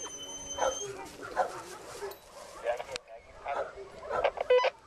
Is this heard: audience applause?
no